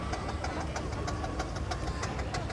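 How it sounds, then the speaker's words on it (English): A Burrell steam traction engine rolls past in a grand parade at a steam rally, giving a steady, rhythmic run of heavy chuffing beats, fairly close and continuous with no talk over it. "So that's a Burrell traction engine"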